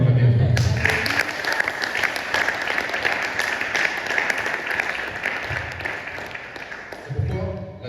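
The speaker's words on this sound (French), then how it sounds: "Quelqu'un doit acclamer un frère." Church congregation applauding at a Sunday service, a dense broad wash of clapping that holds steady for several seconds, with a voice speaking over it at the start and again near the end.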